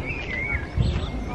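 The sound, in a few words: birds chirping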